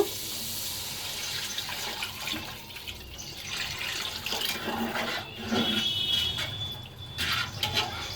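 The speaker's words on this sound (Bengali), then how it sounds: "এখন এর মধ্যে আমি পানি দিয়ে দিব।" Water poured into spiced chicken curry in a pan, a continuous splashing, gurgling pour that swells louder toward the end, with no talking over it.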